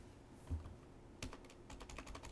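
Rapid keystrokes on a computer keyboard while entering commands in a SCILAB console, a quiet burst of clicky taps starting after a brief pause, close and alone.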